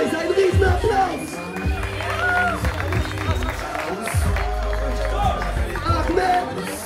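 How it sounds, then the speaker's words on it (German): A crowd at the final of a calisthenics freestyle cup cheers, whoops and claps over loud thumping event music. Excited voices shout near and far throughout. "Ein riesen Applaus!"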